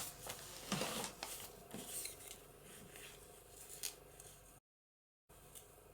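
Scissors cutting material for a papercraft journal pocket. Quiet, close snips and rustling crunches come in an uneven series, with a brief moment of silence near the end.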